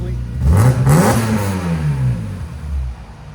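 A 1997 BMW M3 with a 3.2L engine swap, headers, downpipes and a Borla ProXS exhaust revs up loudly nearby, rising and falling through a full blip before settling back toward idle.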